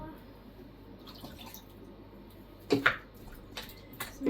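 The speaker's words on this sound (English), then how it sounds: "Chuck in some water." Water poured into a slow cooker over potatoes, a soft irregular trickle and splash with a few louder splashy bursts near the end, fairly close and alone.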